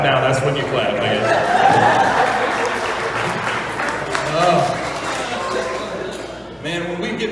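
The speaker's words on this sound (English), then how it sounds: "You can clap now. That's when you clap" An audience at a church retreat comedy show claps, mixed with chuckles and laughter, fairly loud and continuous, with voices mingling through it toward the end.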